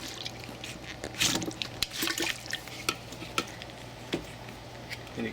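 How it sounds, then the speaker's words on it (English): A hand pump on an electroforming tank squirts liquid in a few short bursts, with splashy trickling and sputtering spurts over a steady low hum, close and fairly quiet. "anytime you pump it, liquid comes out"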